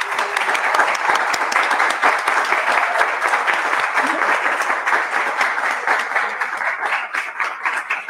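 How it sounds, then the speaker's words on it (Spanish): Sustained applause from an audience at a public doctoral thesis presentation, a dense, steady wash of many hands clapping at full volume for the whole stretch, fading only slightly near the end. "Yo les pido un aplauso en reconocimiento a todo su trabajo"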